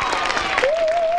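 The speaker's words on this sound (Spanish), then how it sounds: "Respetable público, les presento al jefe. Un aplauso." A brief burst of audience applause at a Los Tigres del Norte show, dense clapping with a rising whistle-like tone cutting in halfway through.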